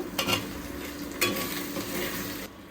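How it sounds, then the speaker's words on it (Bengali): Chopped tomato goes into a pan of onions browning with ginger-garlic paste on an electric stove, giving a steady close sizzle with bursts of stirring scrapes and no talking. "পেঁয়াজটা হালকা বাদামি কালার হয়েছে, তো এখন আমি দিব আদা রসুন বাটা। আর এখন দেব টমেটো কুচি।"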